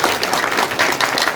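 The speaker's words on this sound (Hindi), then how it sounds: "ताली बजा दो पहले एक बार।" An audience at a CRPF training centre in Panihar claps together, a dense, steady burst of hand claps filling the room, close and sustained without pause.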